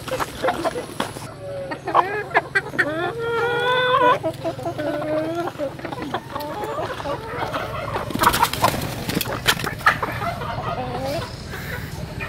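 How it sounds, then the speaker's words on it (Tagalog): A chicken clucks and croons close by in a rural setting, a series of short, uneven calls over a steady low hum, with people talking intermittently nearby. "Anong manok ito"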